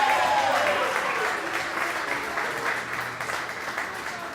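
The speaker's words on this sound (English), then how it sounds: "They will give you a tremendous round of applause" A crowd at a Halloween show gives a round of applause, loud at first and then slowly tapering into a softer, sustained patter of clapping.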